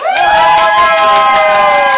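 Live game show audience cheering for a contestant named Kiki: loud, sustained high-pitched shrieks and yells from a crowd that includes children, continuous for the whole two seconds.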